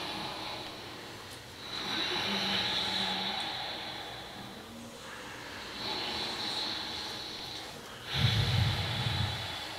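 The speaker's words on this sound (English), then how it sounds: "So you have to breathe making a sound with your throat." Deep yogic breathing drawn through a constricted throat, slow, hollow rushing breaths that swell and fade in long cycles, close and fairly quiet, the last exhale rougher and louder.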